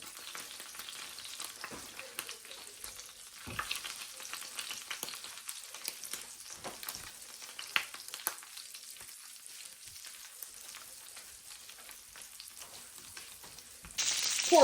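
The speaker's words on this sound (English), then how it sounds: "have a hot skillet with a lot of oil and butter going on. I'll lay these pork chops in there." Pork chops fry in a hot skillet with plenty of oil and butter, giving a steady, crackling sizzle with scattered pops, heard close up and without talk, rising in volume at the very end.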